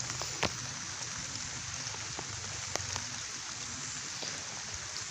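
Rain keeps falling on a hillside oil palm plantation, a soft, even patter with a few sharper drips standing out, heard alone and fairly quiet.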